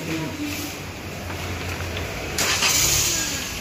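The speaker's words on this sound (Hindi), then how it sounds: "भाई अभी आपको गाड़ी स्टार्ट करके दिखाएगा" A modified 2018 Maruti Suzuki Swift LXi petrol engine cranks and catches with the bonnet open, then settles into a smooth running hum that swells in level partway through, heard close at moderate loudness.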